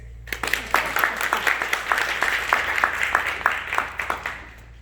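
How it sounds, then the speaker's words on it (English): Applause for graduates at a ceremony, a moderate, steady run of clapping with distinct individual claps over a low background hum. "let's give it a hand to our future leaders"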